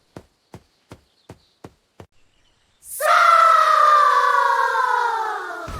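After a row of six evenly spaced dull knocks, a loud, piercing, high-pitched scream bursts in and holds steadily for nearly three seconds before cutting off abruptly.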